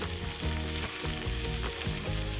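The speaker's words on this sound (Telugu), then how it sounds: "బాగా కలుపుకొని ఫ్రై చేసుకోవాలండి. దాన్ని బాగా మంచిగా వేయించుకోవాలి." Boiled green gram (mung beans) with garlic paste and turmeric frying in a pan, a steady close sizzle with soft rhythmic scrapes of stirring repeating about every half second, no voices.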